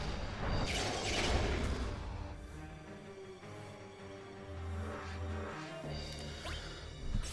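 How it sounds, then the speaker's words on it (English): Cannon fire in a mobile role-playing game battle, repeated dull booms and crashes layered over a continuous busy game soundtrack with whooshing effects, moderately loud throughout. "Cannon fire."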